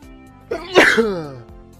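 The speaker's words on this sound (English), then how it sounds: "sneezes loudly from the adjacent room" A single loud sneeze, sharp and close, with a brief intake of breath before it.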